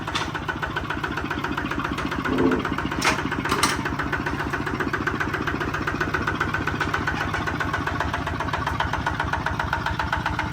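A Kubota ZT155 Plus engine runs at a steady idle, giving a continuous close, rhythmic chugging throughout.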